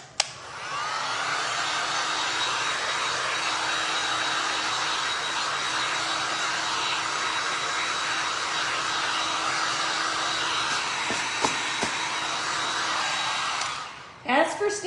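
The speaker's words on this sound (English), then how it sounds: "let me hit this with my dryer real quick, just for insurance" A hair dryer blows steadily and loudly on glass and resin stencil art for about fourteen seconds, a continuous whooshing roar with a faint whine, then cuts off near the end, followed by a few handling clicks.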